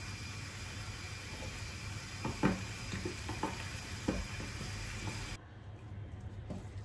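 Crispy sweet corn being stirred into sauce in a pan, with soft scraping and clinking strokes over a steady low sizzle and hiss, a few sharper knocks standing out.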